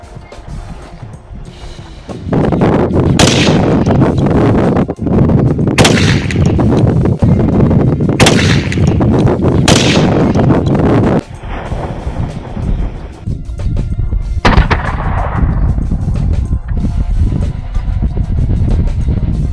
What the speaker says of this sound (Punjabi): ਭਾਈ ਆਪਣੀ ਜਿਹੜੀ ਇਹ ਮਿੰਨੀ ਕੈਨਨ ਬਣਾਈ ਹੈ ਬਹੁਤ ਵਧੀਆ ਕੰਮ ਕਰਦੀ ਹੈ